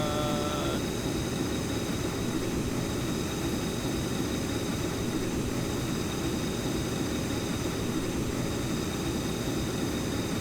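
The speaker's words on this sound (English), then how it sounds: "Nighttime takeoff is a great idea." A steady, loud aircraft engine drones continuously during a night takeoff in Stormworks, with a brief tonal beep at the start and no talking.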